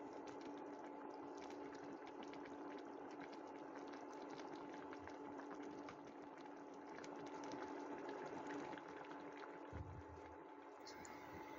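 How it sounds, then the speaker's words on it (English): Tuna kimchi stew boiling steadily in a pot, a continuous close bubbling and simmering texture that stays even throughout with no voices. "If you boil the stew for a while, then the soup reduces like this"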